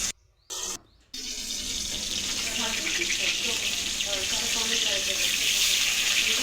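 Fish dropped into hot oil in a wok on a gas stove start a loud, steady sizzle after a couple of brief quiet gaps, the hiss holding even and close to the end.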